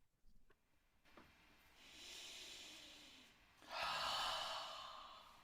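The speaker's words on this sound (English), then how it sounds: "let's take a deep breath" A group taking a deep breath together, two soft breathy inhalations and exhalations rising in turn, faint and close, with no talk.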